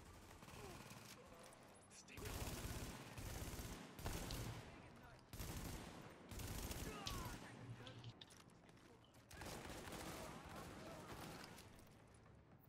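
Gunfire rattles through a Lincoln Tunnel fight in The Division while an enemy sniper attacks, repeated bursts of shots and impacts coming in clustered volleys at a fairly low level, with voices underneath.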